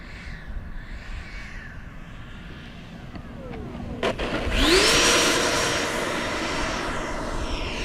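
A 105mm twelve-cell electric ducted fan jet with half flaps deployed lands in the flare, its turbine-like whine shifting pitch as it passes fairly close, loud over steady outdoor wind noise, with no talking.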